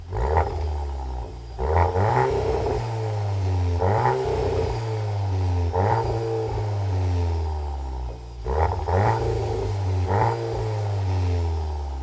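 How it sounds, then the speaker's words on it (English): A Volkswagen Golf R with an Akrapovic titanium exhaust revs repeatedly, sharp throttle blips rising and falling over a deep rumble, loud and close with no talking. "the Akrapovic titanium exhaust"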